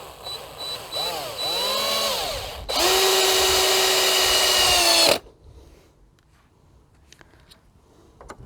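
Lidl Parkside cordless impact driver fitted with a T15 bit: two short whirring trigger bursts that rise and fall in pitch, then a loud, steady high-pitched whine of about two and a half seconds while driving, followed by quiet handling clicks.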